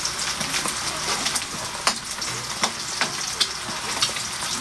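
Bread frying in hot oil gives off a continuous, fairly quiet sizzle with scattered sharp crackles and pops throughout.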